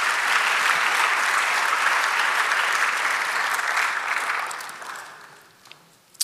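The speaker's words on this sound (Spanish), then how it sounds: "Dale un aplauso" A church congregation claps in sustained, even applause that fades out near the end, leaving a few last isolated claps.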